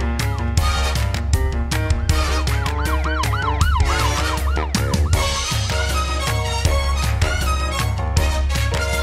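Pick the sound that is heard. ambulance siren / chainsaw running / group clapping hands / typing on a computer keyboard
ambulance siren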